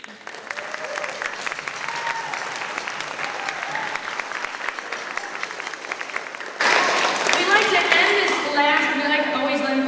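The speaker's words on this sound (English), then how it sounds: "can we give your parents a round of applause?" Audience at a school 5th and 6th grade spring band concert applauding parents, with sustained dense clapping throughout that swells louder and brighter near the end, mixed with crowd voices and a few cheers.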